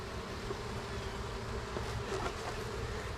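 Steady, dense insect buzzing like a swarm of honey bees close by, continuous throughout with no voices.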